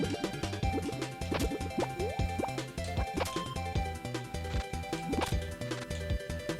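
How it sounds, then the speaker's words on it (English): Splashy liquid plops and drips from a cleaning minigame in the Kirby video game Kirby's Dream Land 3, scattered through a busy, loud chiptune-style music track with repeated percussive hits. "I just swing them and water comes out?"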